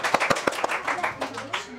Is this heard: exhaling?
no